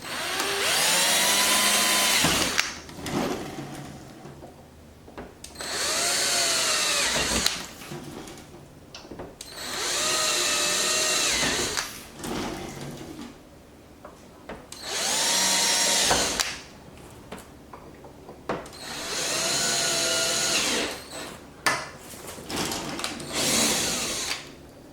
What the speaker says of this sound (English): So we're going to just drill these holes.